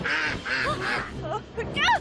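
A giant duck in the video game My Time at Sandrock gives a series of loud, close, nasal honks and quacks, overlapping with voices speaking.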